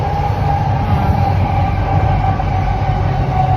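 A metro train in motion, a loud continuous rumbling drone with a steady tonal whine, heard close and unbroken without speech.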